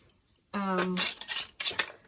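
Reusable plastic knives rattle and clatter together in a camping kitchen drawer: a short tonal scrape, then a few light clicks and knocks, close and brief, after near silence.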